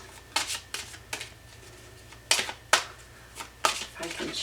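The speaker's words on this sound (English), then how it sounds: "If I can shuffle and not drop them." Close, papery riffles of a tarot deck being shuffled in several quick bursts with short gaps between them, over a faint low hum.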